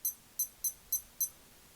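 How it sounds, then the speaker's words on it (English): An official Casio digital watch gives five short, high-pitched beeps in an uneven rhythm, close and clear against near silence. "Listen to the beep on the official Casio."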